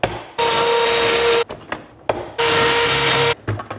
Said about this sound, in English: let's use a pocket hole jig